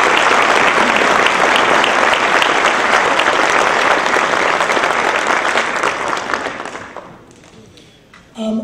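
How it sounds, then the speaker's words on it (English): An audience at a high school spring instrumental concert claps loudly and steadily, then the applause thins and fades out, and a voice begins speaking at the very end. "So if we could give another round of applause."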